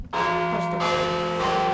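A bell rings out at the close of a presentation, its steady, ringing tones sustained and fairly loud throughout, with no talking over it.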